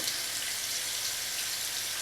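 Water runs steadily from a tap as a fountain pen nib is rinsed beneath it, a continuous close hiss of flowing water with no speech.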